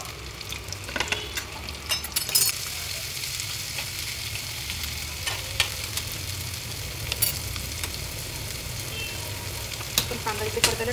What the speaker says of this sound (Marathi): तेल तापल्यावर आपण छान कांदा परतून घेणार आहोत